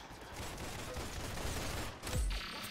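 Rapid bursts of grease gun fire in a video game crackle in a dense, continuous volley up close, followed by a heavier thump near the end.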